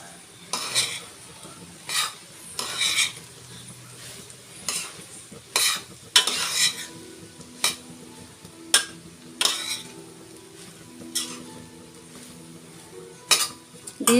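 Cooked rice being stirred and tossed in a pan for vegetable fried rice, with repeated scraping clinks of a spoon against metal in uneven bursts over a faint low sizzle, close and fairly quiet.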